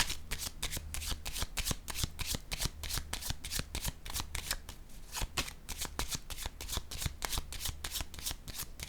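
Tarot cards are shuffled in a quick, steady rhythm of crisp riffling snaps, close by and fairly quiet, continuing without pause and without any voices.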